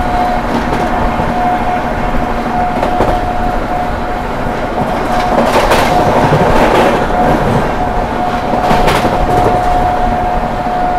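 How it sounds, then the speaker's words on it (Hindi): A Prayagraj–New Delhi Humsafar Express train races through Dadri without stopping, a loud continuous rumble of rolling wagons with rhythmic rail clatter and bursts of rushing noise, no voices. "अपनी ट्रेन जो है स्किप करने जा रही है दादरी"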